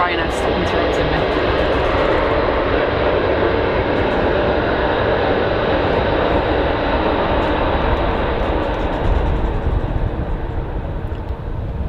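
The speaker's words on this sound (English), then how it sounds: "Wait for the Ryanair to stop interrupting me." A Ryanair jet airliner at Manchester Airport fills the whole stretch with a loud, steady, broadband engine roar that never lets up, with voices talking underneath it.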